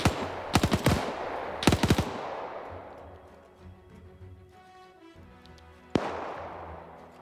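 Two rapid bursts of bipod-mounted MG42 machine gun fire in a WW2 video game, each a tight crackling ripple of shots, followed by a long echoing decay and one later sharp single report.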